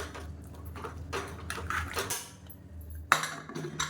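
A metal pressure cooker lid is handled and set onto the pot in a home kitchen, with soft clatters and scrapes building to one sharp metallic clink near the end.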